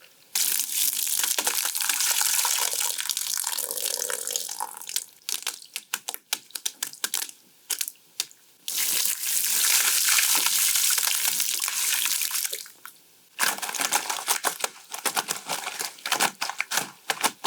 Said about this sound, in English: So we want the wet kind of sound, we want the smushy, gushy kind of sound